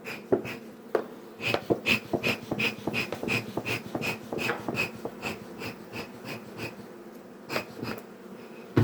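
Honey bees buzz around an open hive while a beekeeper works it, a close buzzing hum broken by frequent sharp knocks and clicks in an irregular rhythm.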